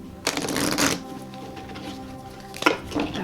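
Tarot cards being shuffled at close range: two quick riffling bursts, the first near the start and a shorter one close to the end, with a quiet pause between them.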